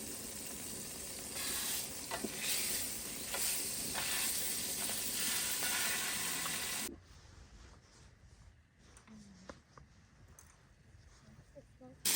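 Steady sizzling of food cooking over a campfire, a dense hiss for about seven seconds that then drops away to quiet outdoor background with faint scattered sounds.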